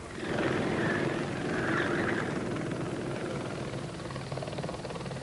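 A helicopter drones steadily with a throbbing rotor rumble, fairly distant and continuous, with no voices.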